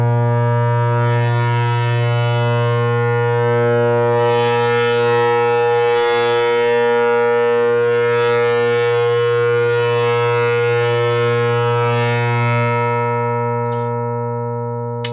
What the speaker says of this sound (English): With the bow, you have just 2 controls. There's the bow pressure and the timbre, which is kind of changes the character of the sound.